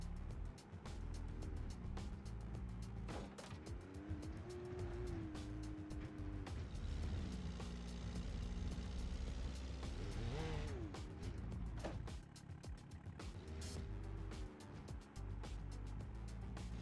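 Side-by-side off-road vehicle in BeamNG.drive crawling along a light dirt track, its engine droning and rising in pitch under throttle, mixed with bumps and knocks from the suspension and someone talking over it.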